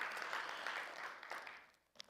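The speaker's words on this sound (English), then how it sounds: "please give another round of applause for that beautiful music" An audience claps after live music at an evening talk, a soft, brief burst of applause that fades away within about two seconds.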